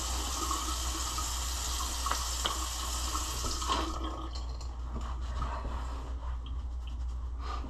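Running tap water splashing in a sink as a face is wetted before a straight razor shave, a steady broadband rush that stays close and fairly loud, easing slightly toward the end; no talking.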